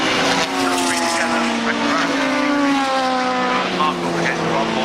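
Porsche 996 racing car leading a queue of cars at Brands Hatch, with loud engine notes rising and falling steadily throughout amid trackside noise and commentary.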